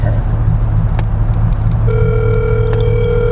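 A phone rings out during a call, a steady electronic tone sounding close over a low engine hum inside a car, with a few clicks before it.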